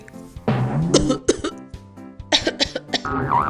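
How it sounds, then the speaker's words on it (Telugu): A woman coughs repeatedly with a fever, a voice acting out a sick sister's fit in a Telugu ghost story; several close, rough coughs and throat-rasping bursts arrive in uneven clusters with no talk. "ఏందక్క ఏమో దగ్గుతున్నావు?"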